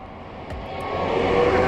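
Kaabo Mantis 8 electric scooter pulling away on both motors, a rising whine and rushing hum that builds steadily louder over a second and a half, close and without speech.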